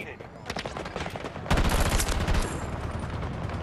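Rapid automatic gunfire rattles loudly in the online shooter Battlefield 2042, with bursts from several weapons overlapping and an even denser, louder volley breaking out partway through, while a player talks over the shooting.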